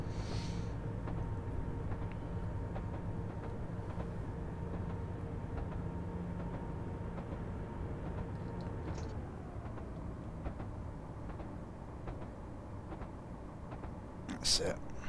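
A Class 800 train in Train Simulator 2017 runs at speed through a London station, giving a steady, continuous low hum and rumble with a faint whine, under quiet talk, ending with a brief click.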